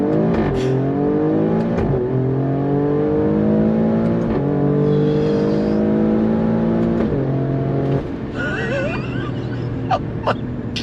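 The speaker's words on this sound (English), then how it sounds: "On throttle, here we go." A 2022 Alfa Romeo Stelvio Quadrifoglio SUV accelerates hard on paddle shifts, its engine rising in pitch through several quick gear changes before easing off with sharp exhaust pops and crackles.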